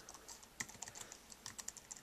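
Typing on a keyboard paired with an iPad: quiet, close clicks and taps in an irregular run of keystrokes, with no talking.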